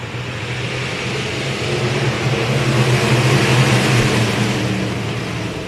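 Race cars roar off together at the start of a feature event at a short track, a loud, dense wall of engine noise holding steady and swelling slightly as the field accelerates past.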